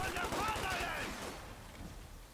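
Rapid automatic fire from a BAR and a Tommy gun in the Company of Heroes 2 strategy game, a dense rattling burst that tapers off, with a commentator talking over it.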